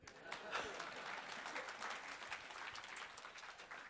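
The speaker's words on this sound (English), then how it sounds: "Round of applause." An audience at a symposium talk on managing emotions breaks into applause, steady clapping from many hands held at a fairly even level throughout, sounding somewhat distant and quiet.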